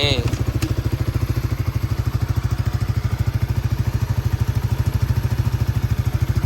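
A Honda Sonic motorcycle engine idles close by with a loud, even, rapid putter and a light mechanical clatter, holding steady throughout.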